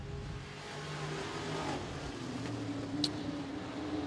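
Race cars circle the track at 411 Motor Speedway, a steady engine drone heard from a distance that rises slightly as they pass.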